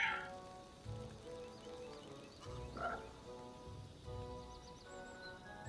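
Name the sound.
frogs croaking, from the video game Pathfinder: Kingmaker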